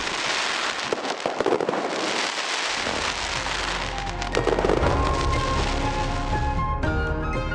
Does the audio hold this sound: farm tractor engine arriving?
no